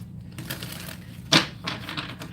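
Tarot cards shuffled by hand in a short burst of papery riffling and soft slaps, close and fairly quiet, with one sharper snap partway through and no talk.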